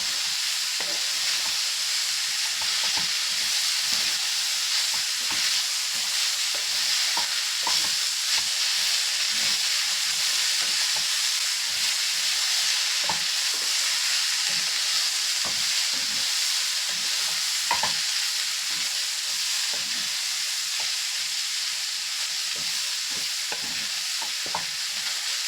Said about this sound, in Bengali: সব কিছু একসঙ্গে দিয়ে ভালো করে নেড়ে নেব, একদম লো ফ্লেমে ভেজে নেব।